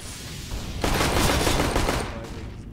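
M4 rifle fire in a competitive video game match: a sustained automatic burst cracks out after a quieter lead-in, loud and dense for over a second before fading to a lighter tail.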